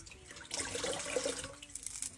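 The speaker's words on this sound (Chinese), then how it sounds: "把掰好这猴头，给它挤干水分啊" Soaked dried monkey head mushrooms are squeezed by hand, releasing a faint, close trickle and splash of water that swells briefly and then thins to drips.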